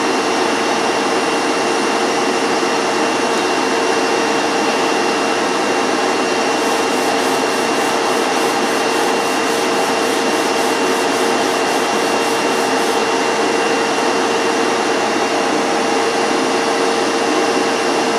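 Steady, loud rasping of a Stanley No. 5 plane's sole being rubbed back and forth on worn sandpaper during a restoration, a continuous dense scraping texture with no talk.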